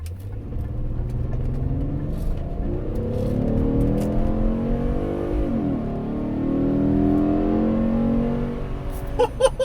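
A 3.6-litre LFX V6 in a 2012–2016 Chevrolet Impala with a cold air intake revs hard and climbs through its gears, a loud, rising roar with a brief dip at a shift before pulling again, close up and continuous.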